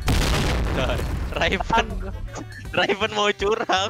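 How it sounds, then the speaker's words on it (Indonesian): An explosion goes off in a video game shootout, a loud broad boom that opens the moment and rumbles away before excited voices break in. "Meledak."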